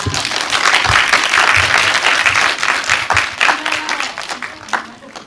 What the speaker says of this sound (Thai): เสียงปรบมือหน่อยค่ะ